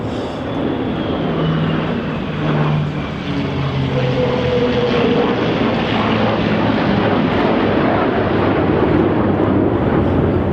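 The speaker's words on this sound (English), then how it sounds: "That's not quite fair, a jet chasing a P-51 Mustang" A jet and a P-51 Mustang pass overhead in a flyover, a loud steady engine roar that swells and holds for the whole stretch, with no voices.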